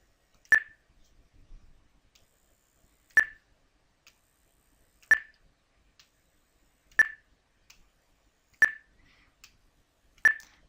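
Six short, sharp electronic beeps come from interactive whiteboard stylus alignment, evenly spaced about two seconds apart, clear and close in an otherwise quiet room.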